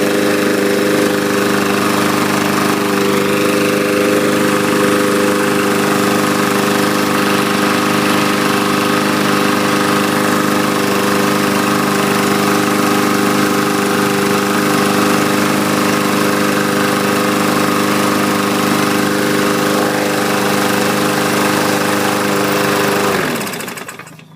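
A Murray lawn mower engine runs steadily and loudly at close range for the whole stretch, droning without pause, then cuts off right at the end.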